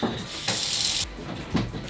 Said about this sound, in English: Then just add some hot water from the faucet and mix to dissolve.